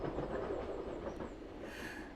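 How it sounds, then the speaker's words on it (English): A train passes steadily with a continuous broadband rumble and rail noise, ending in a brighter hiss toward the end, with no voices. "there's the train going by"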